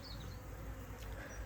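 A bee swarm buzzing as a steady, dense drone at low to moderate level, unbroken and with no voices.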